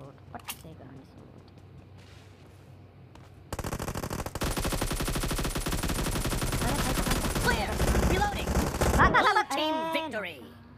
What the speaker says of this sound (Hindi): Gun fire, nice shot. Gun shot पट से गन शॉट।